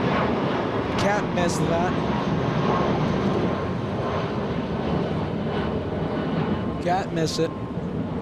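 Lufthansa airliner landing at LAX, a broad continuous jet roar filling the background while people talk over it at a plane-spotting position.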